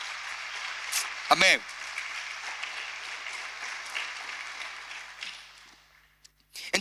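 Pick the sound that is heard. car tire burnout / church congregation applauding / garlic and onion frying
church congregation applauding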